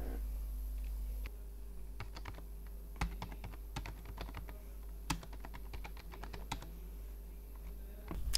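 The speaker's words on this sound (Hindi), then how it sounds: "हेडिंग टाइप करेंगे यहाँ पर।" Someone types a heading into an Excel sales report on a computer keyboard, giving irregular, crisp key clicks at close range over a steady low hum, with no talking.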